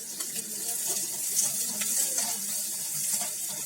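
Large onions sautéing in a pan for a drumstick fry give off a steady, close sizzle with a soft hiss and occasional light stirring clicks. No voices are heard.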